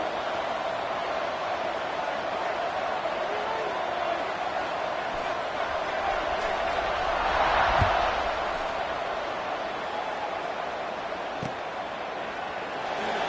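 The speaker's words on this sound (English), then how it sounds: "this crowd is buzzing after that last score" A stadium crowd at a college football game buzzes after a touchdown, a steady distant murmur and roar that swells briefly midway under broadcast commentary.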